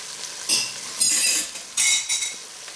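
Mushrooms hit a hot pan for a turkey pot pie soup and sizzle steadily, with bursts of louder frying and stirring in waves and a faint clink of a utensil, no talking.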